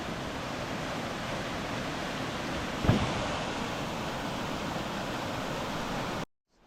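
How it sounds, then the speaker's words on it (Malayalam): Water rushing out of a tunnel fed from Kallar dam, a loud steady roar of flow that holds evenly throughout before cutting off abruptly near the end. "ഇതുണ്ടോ വെള്ളം വരുന്ന വരവുണ്ടോ"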